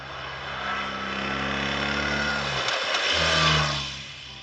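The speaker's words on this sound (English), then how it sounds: "the noise level of the BMW at low speed is not very typical of the Boxer" BMW R1300GS Adventure motorcycle with a ShiftCam boxer engine running at low speed gives a steady, droning hum. The drone dips briefly partway through, then swells again, with no talk.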